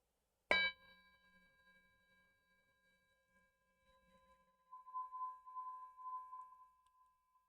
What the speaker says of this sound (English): I'll ring the bell and we can just all bow to each other.